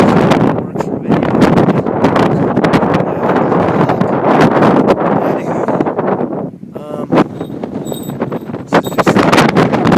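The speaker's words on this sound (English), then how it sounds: "Wind like this, you get a definite great workout, but not a whole lot." Strong gusty wind of roughly 25 mph buffets the microphone in a continuous loud roar with surging swells, and a voice speaks briefly partway through.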